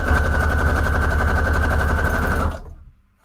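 Sewing machine running a straight stitch through scrap paper, a fast steady mechanical rattle heard close and loud for about two and a half seconds before stopping abruptly.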